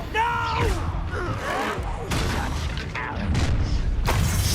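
Confringo blasting spell from the Hogwarts Legacy video game going off as several booming, crashing blasts, loud and close, mixed with in-game voices and effects.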